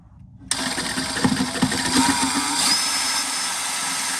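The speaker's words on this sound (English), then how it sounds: "Now it is time to drill our second hole" A power drill starts abruptly and whines steadily, grinding into the metal body of a Willys CJ-2A jeep with a rising pitch, loud and close.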